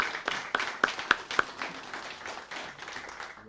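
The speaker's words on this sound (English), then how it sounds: "So, big round of applause for you guys." Scattered clapping from a small audience at a school board meeting, a handful of sharp individual claps standing out over a soft, fairly quiet patter.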